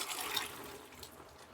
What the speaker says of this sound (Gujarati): હવે એક મેં આ ચાયણી લીધી છે અને આ રીતે બધું જ પાણી તેમાં કાઢી લઈશું આપણે